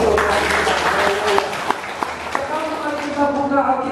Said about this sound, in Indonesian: Tepuk tangan lagi untuk